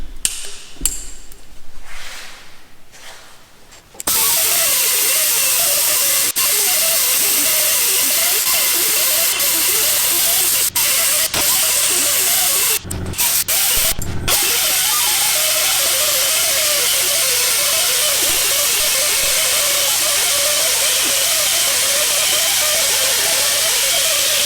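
A cheap pneumatic die grinder running on 100 PSI air through a standard fitting cuts steadily, giving a loud, continuous hissing whine for about twenty seconds after a short quieter start, with a brief dip partway through.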